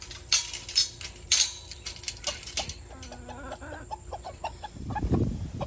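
Chickens and ducks cluck and squabble over kitchen scraps such as pork tenderloin, bursts of scratchy calls and short clucks coming and going close by, with rustling and a soft muffled thump near the end.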